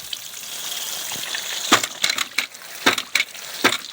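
Ice knocked off a ram pump outdoors in 15° freezing weather: a series of sharp cracking, crunching knocks, irregular and close, with brittle splintering bursts over a steady gush of water.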